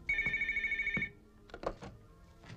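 A telephone bell rings loudly in one long burst, then stops, followed by a few softer clicks and knocks as the receiver is picked up in a quiet indoor room.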